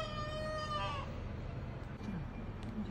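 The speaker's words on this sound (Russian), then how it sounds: "петух орёт за окном" A rooster crows once, loud and harmonic, its call fading after about a second into a low steady background rumble.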